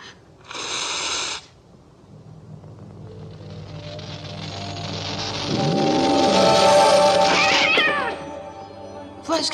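A cat meows loudly and close by, with one short early call and then a long drawn-out wailing meow, over a low background hum.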